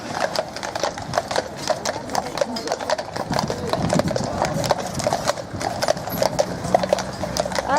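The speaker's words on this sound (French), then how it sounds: "Ils sont beaux les chevaux, hein." Horses' hooves clip-clop steadily on pavement as horse-drawn carriages pass nearby at a Breton horse festival, with a busy crowd chattering and people talking close by throughout.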